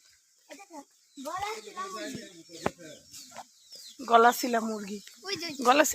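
Chickens cluck in a village yard, with several short, close clucks and calls mixed among voices talking nearby.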